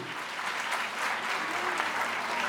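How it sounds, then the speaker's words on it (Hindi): Vigorous, sustained applause from a crowd at a public event in Delhi, a dense, even roar of many hands clapping throughout. "जोरदार ताली हो"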